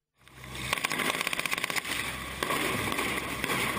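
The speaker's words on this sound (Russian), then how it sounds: "Выстрелы этого пулемета кажутся сокрушительными, но тут больше шума, чем опасности." A rapid burst of loud gunfire cracks out from a machine gun firing blank rounds at a WWII battle reenactment in heavy rain, followed by continuous roaring noise and rumble, heard from a moderate distance.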